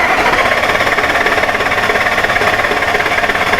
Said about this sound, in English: A really good way to load coils is to crank it with the throttle wide open.